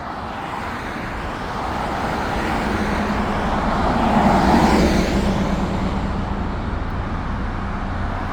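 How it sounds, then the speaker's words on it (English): Road traffic streams past continuously, a broad rumbling wash that builds to a louder vehicle pass near the middle and then settles back to a steady hum of cars and heavier vehicles. "there is a lot of traffic through here"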